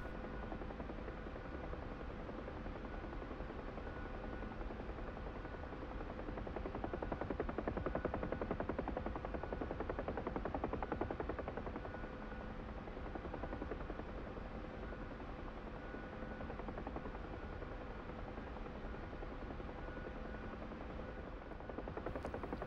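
Bell UH-1 Huey helicopter in a flight simulator, its steady rotor buzz and turbine whine running continuously throughout, swelling slightly in the middle, with no voices.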